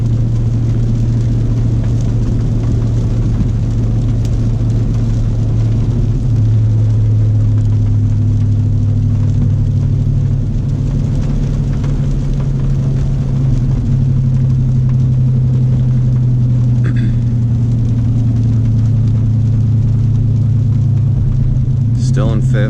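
Steady engine drone and road rumble from inside a car running an OZ Tuning Omega tune, the pitch holding and shifting slightly as it pulls through the gears, with a driver talking over it.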